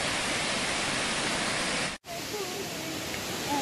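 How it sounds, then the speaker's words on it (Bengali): Water rushes loudly and steadily at Elephant waterfall in Shillong, Meghalaya, a broad continuous roar broken by one brief cut, with faint voices under the flow afterward. "জলটা এই দিক দিয়ে যাচ্ছে, এনে শব্দ পাওয়া যাচ্ছে"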